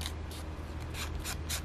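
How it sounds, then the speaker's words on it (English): An ink pad is rubbed along paper edges for a collage tag, giving several soft, close, papery swipes in an irregular rhythm over a quiet room hum. "I'm just rubbing the edges of the ink pad onto the"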